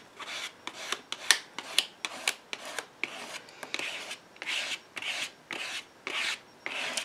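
Shimmer paint scraped onto a surface, a series of about fifteen short rasping strokes in an even rhythm, close and clear with no talk.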